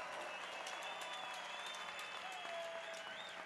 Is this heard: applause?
yes